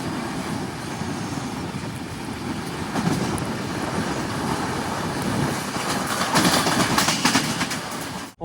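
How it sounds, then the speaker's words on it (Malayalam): The Mandovi Express rumbles along as it pulls into Karmali station, a steady broadband roll with swelling rattles and surges toward the end, no voices present. "ട്രെയിൻ ഇപ്പോൾ കർമാലി സ്റ്റേഷനിലേക്ക് ഇതാ എത്തുകയാണ്"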